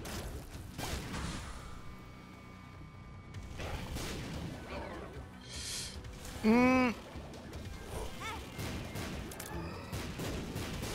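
Explosions in the video game The Binding of Isaac: Afterbirth+, several sharp bursts among game effects and a brief rising tonal chime, fairly quiet overall.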